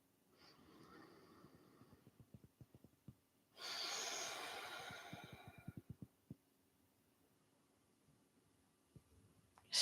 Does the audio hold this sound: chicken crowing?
no